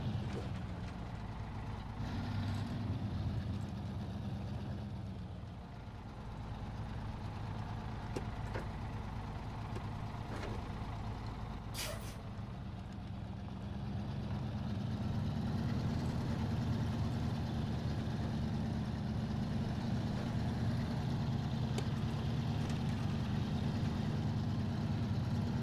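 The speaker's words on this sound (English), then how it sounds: "So we're going to have to reverse this dolly trailer." A heavy truck engine in the SnowRunner video game idles and labors while reversing a dolly trailer, a low steady diesel rumble that swells as the throttle rises, with a brief hiss partway through.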